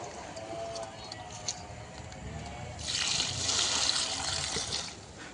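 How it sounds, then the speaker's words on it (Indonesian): Black humic acid solution is poured onto the soil of a small durian plant, starting as a faint trickle and then swelling into a steadier, fuller splashing stream midway, heard close up. "sekarang saya akan siramkan ini ya, sekaligus juga memang jadwal penyiraman setiap harinya"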